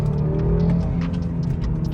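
A tuned BMW B48 four-cylinder pulls hard after a downshift, its steady engine drone and exhaust rumble filling the cabin, loud and continuous with no talking.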